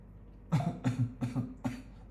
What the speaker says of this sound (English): It's just annoying that I have this coughing